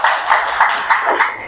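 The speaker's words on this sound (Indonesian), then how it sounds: "Tepuk tangan buat Putri." A classroom claps for a student named Putri, a short burst of close, uneven hand-clapping with quick repeated peaks that fills the room briefly.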